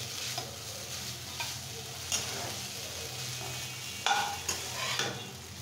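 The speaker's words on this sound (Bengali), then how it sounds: "এখন একটু নেড়ে চেড়ে মাছের সাথে খুব সুন্দর করে মাখিয়ে নেব।" Noodles are stirred together with small shrimp in a hot pan, a low steady sizzle with occasional soft scrapes and clicks of the utensil against the pan.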